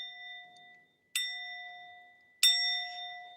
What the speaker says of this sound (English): let me ring the bell real quick